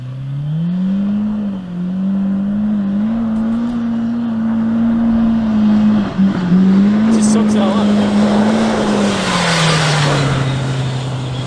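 A 2022 Polaris RZR Pro R side-by-side drives through toward a jump, its engine holding a loud steady drone that rises and dips slightly as it revs, with a gritty rush of dirt and air late in the pass.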